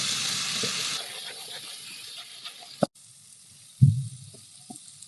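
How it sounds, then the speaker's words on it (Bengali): About 500 g of chicken frying in oil for chicken makhmali, a steady broadband sizzle that is loud at first and then settles lower, with a sharp clack near the middle and a soft thump and scrape afterwards. "এটা ফ্রাই হবে যতক্ষণ না তেল ছাড়ছে।"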